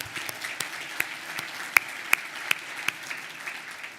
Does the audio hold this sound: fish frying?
no